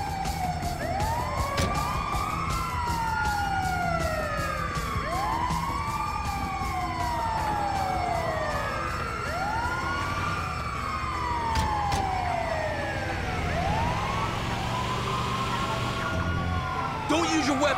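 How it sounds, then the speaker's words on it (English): An ambulance siren in Grand Theft Auto V wails continuously in repeating rising-and-falling sweeps, loud and steady, with vehicle engine noise and some voices underneath. "Oh, it's the ambulance! Move!"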